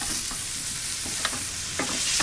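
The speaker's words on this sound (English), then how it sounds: "take some butter, get it into the pan, a couple cloves of garlic, smash it, garlic into the pan" Butter and smashed garlic cloves sizzle in a hot pan, a loud continuous hiss and crackle with occasional sharper pops and utensil scrapes, close by and without talk.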